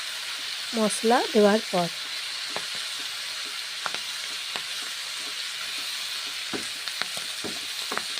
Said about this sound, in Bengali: তারপর নেড়ে চেড়ে নিচ্ছি